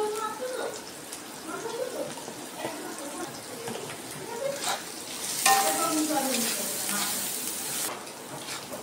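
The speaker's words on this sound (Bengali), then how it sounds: "আমার পেঁয়াজটা ভাজা হয়ে গেছে" Chopped onion with garlic, salt and a little turmeric sizzles and crackles steadily in a pan for a cabbage dish, stirred now and then, with someone talking over the frying throughout.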